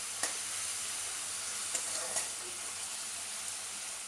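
Carrots and beans frying in a pan for a chicken vegetable pasta, a steady broadband sizzle with occasional light clicks of stirring, close and fairly quiet.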